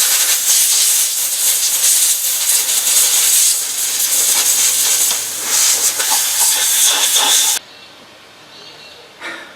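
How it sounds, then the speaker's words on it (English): Compressed air blasts through cleaned carburetor parts from a Triumph 2500 MK I, a loud continuous close-range hiss with short fluctuating bursts that cuts off abruptly, leaving a quieter pause and one brief final puff. "I'll blow some compressed air through that"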